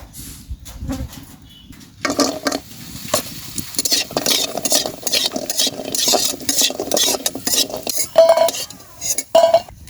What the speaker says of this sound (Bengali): কই মাছ বড়ি দিয়ে রান্না করব, তাই আমি বড়িটা আগে ভাজি নিব।